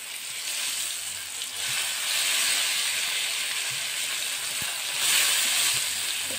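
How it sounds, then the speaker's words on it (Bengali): Long, slender eggplants sizzle in hot oil in a pan, a continuous hissing fry heard up close, swelling briefly louder near the end with no one speaking. "বেগুনগুলো আমার ভাজা হয়ে গেছে।"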